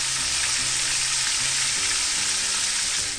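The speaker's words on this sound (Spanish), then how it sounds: "Y así lo freímos la carnecita" Beef frying in hot oil for a veal fricandó, a dense, steady sizzle that holds loud and even for the whole stretch, close by and with no voices over it.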